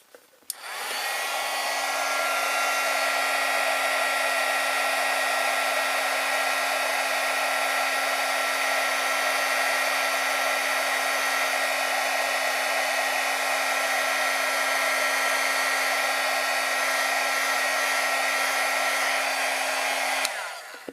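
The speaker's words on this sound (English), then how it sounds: "let's take my heat gun and just heat this up." A heat gun blows steadily on embossing powder for about twenty seconds. The whir is loud and unbroken, with a constant tonal hum, and nobody speaks.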